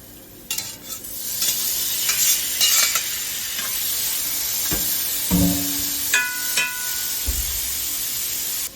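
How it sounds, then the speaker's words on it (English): Hot oil in a pan, heating for frying seafood, hisses and sizzles continuously at moderate level, with scattered crackles, pops and a few clinks of a utensil. "Now I can hear our oil going, which means that it's almost time to put these guys in."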